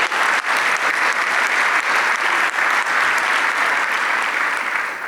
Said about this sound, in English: can we just clap it up for that?